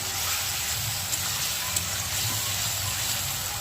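Tomato frying in a pan with ginger, garlic and onion paste, giving a steady, close sizzling hiss that runs unbroken throughout with a low bubbling undertone.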